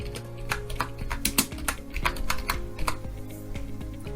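Rapid, close typing on a computer keyboard, a quick run of crisp key clicks with a few louder strokes over a low hum, with no voice.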